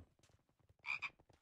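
Two short, loud frog-like croaks from a scorpion mob in modded Minecraft, set close together over a quieter background of game sounds.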